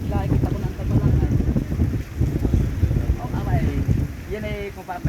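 Strong gusts buffet the microphone in a roaring, fluttering rush, with a voice talking intermittently over the wind.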